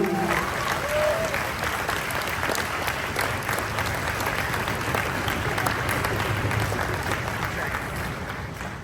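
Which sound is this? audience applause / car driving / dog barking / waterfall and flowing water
audience applause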